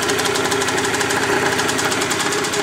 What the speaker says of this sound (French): Si je fais ça, petit coup de gaz.